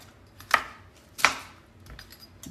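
A knife chops through half a head of cabbage for a summer soup, two sharp, close blows on the cutting board about a second apart, with faint kitchen noise between them and no talking.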